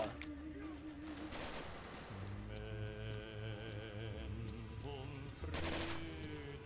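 Video game gunfire rings out in bursts, with heavy rapid shots clustered near the start and again near the end over a dense, loud game soundtrack.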